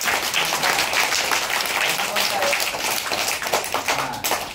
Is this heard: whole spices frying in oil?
no